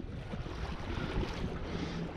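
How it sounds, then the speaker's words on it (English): Strong north wind gusting over the water around a canoe in a mangrove-lined backwater near Wiggins Pass, heard as a steady, close, rumbling roar buffeting the microphone with no talk. "It's windy today. We got some north wind."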